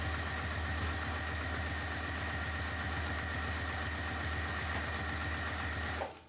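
A sewing machine runs steadily at close range, its needle stitching in a fast, even mechanical chatter over a low motor hum, then slows and stops with a brief clunk near the end; no voices.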